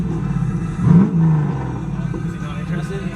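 A Volvo wagon's engine rumbles steadily with a brief rev near the start, heard close under background noise.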